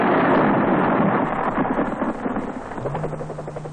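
A Sioux military helicopter flies during the Vietnam War in 1968 with the Australian Army Aviation Corps, its loud rotor and engine roar steady and rough with wind buffeting, easing slightly toward the end.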